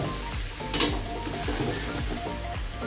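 Spiced water poured over browned mutton for biryani sets off a loud, dense, continuous sizzle with rhythmic stirring scrapes underneath.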